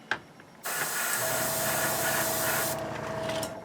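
An F-14 model kit being spray painted: after a brief tap, a steady close airbrush-style hiss runs for about two seconds, then tails off into a softer spray before stopping.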